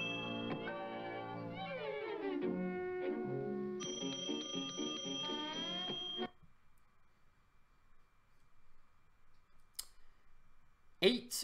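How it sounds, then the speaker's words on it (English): A cartoon bell rings in a rapid series of bright, metallic dings, loud and close, followed by quieter clicks and a couple of sharp taps near the end, with no talking. "Eight rings of the bell, eight sins."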